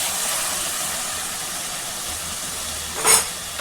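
Tomato pieces sizzle steadily in hot oil, a continuous close hiss with one brief louder crackling burst near the end.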